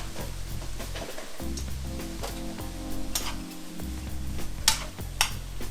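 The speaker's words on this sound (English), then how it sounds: "All we're doing is just sauteing. We're not cooking it. Sauteing it." Broccoli sautés in a pan for a vegetarian pot pie, a steady close sizzle with occasional clicks of utensils against the pan under a low background hum.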